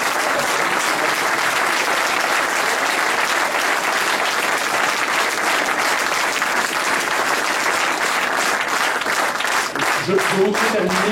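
A crowd at a presidential second-round election night party applauds the campaign team with sustained, dense clapping that stays loud throughout, and a voice begins speaking near the end.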